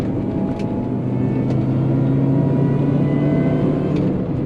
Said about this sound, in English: hearing that supercharger whine, that can get pretty addictive